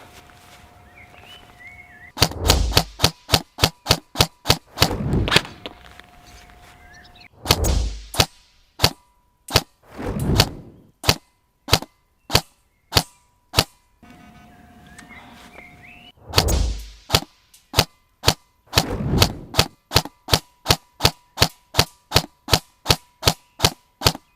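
A Novritsch SSR4 electric automatic airsoft rifle fires three long bursts of rapid, sharp, evenly spaced shots, close and loud, with short pauses and faint mechanical handling between strings.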